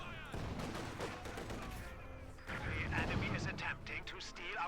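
Company of Heroes 2 battle with a steady crackle of distant gunfire and heavier artillery-like rumbles, dense and continuous, heard under an ongoing commentator's voice.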